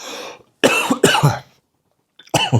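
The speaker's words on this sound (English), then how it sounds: "Sorry for coughing in your ear." A few harsh coughs close by: a burst, a quick pair, a pause, then another cough.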